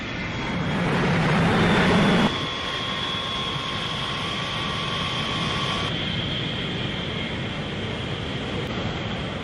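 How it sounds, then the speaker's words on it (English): A North Vietnamese Air Force jet gives a loud, steady roar with a high, sustained whine on top. The engine swells briefly near the start, then holds an even, continuous drone with no voices. "jets of the fledgling North Vietnamese Air Force returned to Vietnam from their training base in China."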